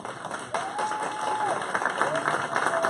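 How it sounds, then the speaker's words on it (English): Audience at a community monthly meeting giving sustained applause, a dense steady wash of clapping that swells after a brief start, with a voice audible over it. "give him another round of applause like only D1 can"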